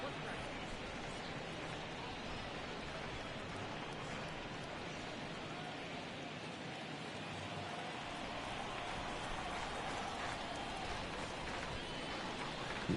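Steady rain falls throughout a baseball video game broadcast, a constant even hiss of dense raindrops with no breaks, while a commentator's voice talks faintly over it.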